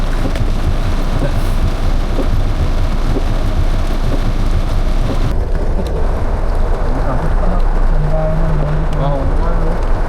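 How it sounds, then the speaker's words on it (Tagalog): Heavy rain pours down steadily and loudly, a dense unbroken roar with a low rumble underneath. "Lakas na ulan dito guys"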